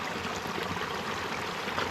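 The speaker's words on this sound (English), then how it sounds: "water does seem to come through the threads" Water trickling through the threads of a hiking water filter, a steady close rushing and dribbling wash with no pauses over a couple of seconds.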